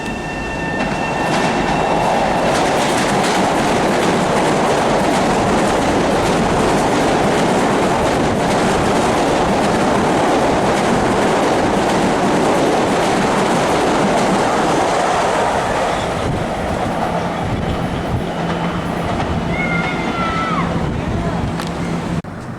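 A Long Island Rail Road train passes close by for a long stretch, a loud continuous rumble and wheel clatter with occasional squealing, and voices can be heard faintly beneath it near the end.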